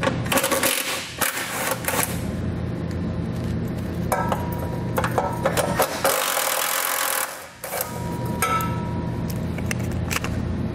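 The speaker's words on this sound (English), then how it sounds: "To do that, we're going to remove these 2 10mm fasteners." Two 10mm fasteners come out of the side underbody panel of a 2016 Ford Edge during a trailer hitch install, giving nearly ten seconds of busy, close mechanical clatter and rapid clicking, with a brief lull near the end.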